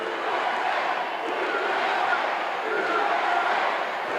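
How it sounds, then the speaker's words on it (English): A wrestling arena crowd at a Dusty Rhodes versus Ivan Koloff coffin match chants USA, a loud, dense, sustained roar of many voices that fills the whole stretch. "oh, now we've got a cheer going on,"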